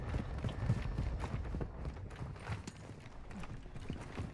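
Footsteps in a video game, a rapid run of low, thudding steps pounding in an uneven rhythm, fairly close and continuous throughout, with no voices over them.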